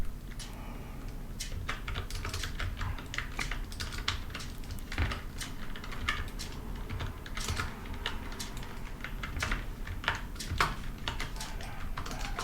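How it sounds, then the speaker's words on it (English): Someone types on a computer keyboard with a continuous patter of close key clicks at an uneven rhythm, and occasional heavier strokes stand out. No one speaks. "I'm just typing everything what I forgot."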